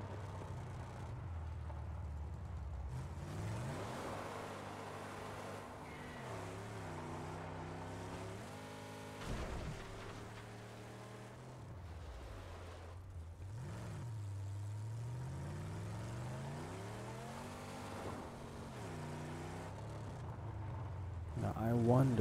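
Car engine in Mad Max running and revving over a long stretch, pitch rising and falling with throttle changes, faint and steady under a speaking voice.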